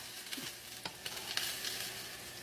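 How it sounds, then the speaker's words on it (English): Meat simmers in a pan for a Puerto Rican pastelon, giving a quiet, steady sizzle with a few soft stirring clicks. "I do have to simmer this meat for 10-15 minutes"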